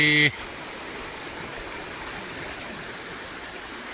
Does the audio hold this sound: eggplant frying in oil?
no